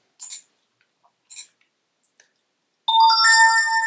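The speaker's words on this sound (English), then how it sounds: "So here we have the push notifications." A test phone sounds a bright, multi-tone chime for an incoming push notification, loud and close after a few soft taps.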